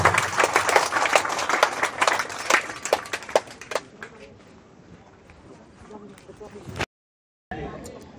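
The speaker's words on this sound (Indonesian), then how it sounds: "Kita sambut Bapak Bupati dengan tepuk tangan." Audience applause greets a regent at an Indonesian public gathering, a dense, loud wash of many hands clapping that fades after a few seconds into murmuring crowd noise and a voice.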